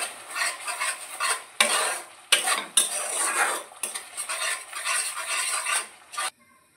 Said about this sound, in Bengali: এই দেখো মশলাটা ভালো করে কষানো হয়ে গেছে